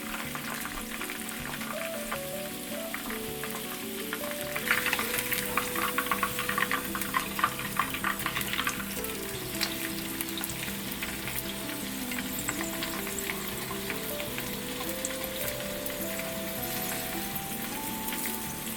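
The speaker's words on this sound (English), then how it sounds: "So there you go, fried Bánh Bột Lọc." Vietnamese tapioca dumplings (bánh bột lọc) frying in a pan give a continuous close sizzle with crackling bursts, swelling louder for a few seconds in the middle before settling back to an even spit.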